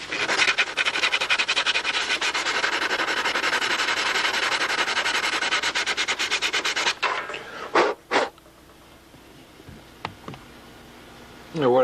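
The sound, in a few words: sanding CA glue coat with sandpaper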